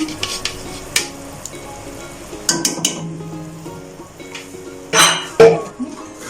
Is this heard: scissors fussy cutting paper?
no